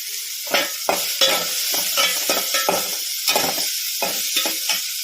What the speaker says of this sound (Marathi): छान असा परतून घेणार आहोत